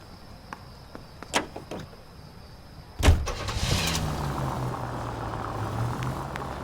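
A 1940s-era car in the video game L.A. Noire: clicks and door sounds, then a loud door slam and the engine starting and settling into a steady idle.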